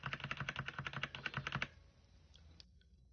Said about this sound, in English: Let's see the noise that the keyboard makes.